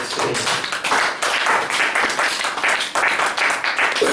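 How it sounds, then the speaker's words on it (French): A church congregation claps for a prophet in a rousing ovation, dense hand claps surging and dipping in waves, loud and close, with faint voices mixed in. "acclamation pour le prophète"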